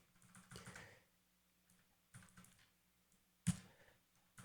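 Typing on a computer keyboard, faint clustered key clicks in three short bursts separated by quiet pauses, with a sharper tap near the end.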